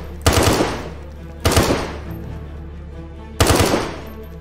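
Three loud, sharp bursts of gunfire in the DayZ video game, each a single crack with a short decaying tail, spaced irregularly with quiet gaps between.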